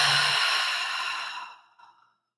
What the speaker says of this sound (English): So we're going to breathe in, and we're going to breathe out.